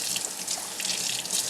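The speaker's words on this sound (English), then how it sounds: "then we use hot water to rinse" Hot water running from a tap to rinse handgun parts during cleaning, a steady close splashing hiss with faint drips, no voices.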